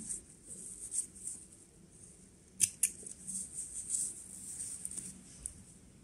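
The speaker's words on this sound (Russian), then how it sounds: "Все, лишние хвостики просто срезаю и обрезаю ниточки." Scissors snip off thread tails while sewing an overlap-style bralette, two sharp close cuts standing out at mid-clip over a quiet background with soft handling noise and no talking.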